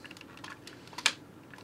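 Small clicks and snaps of plastic parts being folded on a Hasbro Transformers Platinum Edition Omega Supreme toy, a few quiet clicks with one sharper snap near the end, close and alone.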